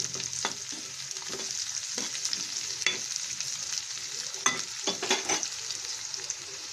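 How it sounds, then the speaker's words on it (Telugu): Chopped onions, about three, frying in hot oil in a pan, with a steady broadband sizzle and several sharp stirring scrapes and clicks from a utensil, close and moderately loud, with no talk. "ఆయిల్ హీట్ అయిన తర్వాత ఉల్లిపాయ ముక్కలు వేసుకోవాలి"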